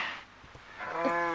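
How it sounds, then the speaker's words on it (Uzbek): A Minecraft cow gives a short, clear electronic moo that rises at the end, heard alone after a brief quiet lead-in. "Sigirlar."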